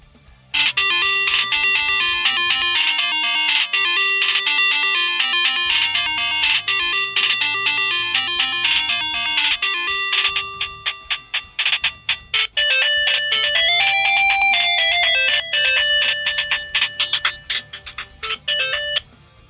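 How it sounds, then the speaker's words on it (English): A phone ringtone plays loudly and continuously, a bright repeating electronic melody that shifts to a different tune partway through, with no talking over it. "The ringtone for my phone."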